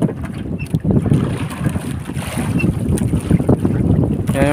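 Ocean waves slosh and slap around a small fishing boat during traditional handline fishing, heard as an irregular watery rush mixed with strong wind buffeting the microphone.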